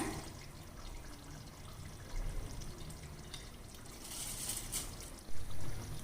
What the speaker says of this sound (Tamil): எடுத்து வச்சுருக்க சீரக சம்பா அரிசி சேர்த்துக்கலாங்க நம்ம வந்து தண்ணி சரியான அளவு சேர்த்துருக்கிறதால தண்ணியை கொஞ்சம் நல்லா வடிச்சிட்டே சேர்த்துடலாங்க